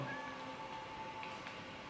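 A cat meows in the Minecraft video game, a short tonal cry over a steady, fairly quiet game background.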